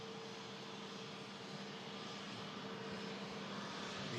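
A Jet2 airliner taxis clear of the runway at an airport, giving a continuous, even engine hum with a faint steady whine, moderately distant and unbroken, with no talking.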